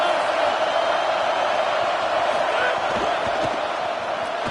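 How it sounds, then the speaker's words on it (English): A stadium crowd on third down at Saban Field in the NCAA 25 college football video game gives a loud, continuous rolling roar that stays steady across the whole stretch, with no clear talk over it. "High crowd rolling noise down onto Saban Field on third down."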